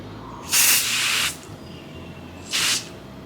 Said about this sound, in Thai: เบื้องต้นเราจะฉีดนะครับ เขาบอกว่าฉีดให้ห่าง เขาบอกฉีดให้ห่างประมาณยี่สิบเซนนะครับ